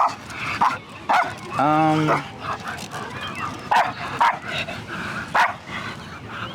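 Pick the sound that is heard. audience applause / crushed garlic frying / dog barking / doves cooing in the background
dog barking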